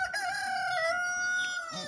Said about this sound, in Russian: Петух, как только я подхожу, так начинает петь